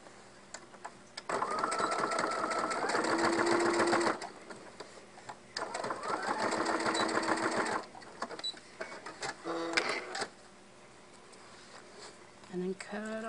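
Sewing machine stitching a zipper into a small coin purse, running in steady bursts of a few seconds with brief pauses between, close and fairly loud.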